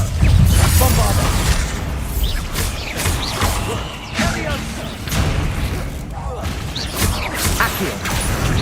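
Bombarda spell blasts in Hogwarts Legacy during a goblin battle: repeated booming impacts and crashes over a continuous loud bed of combat noise and music, with talk mixed in.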